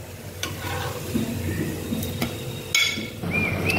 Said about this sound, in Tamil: மறுபக்கம் பிரட்டி போட்டியாச்சு வேகட்டும்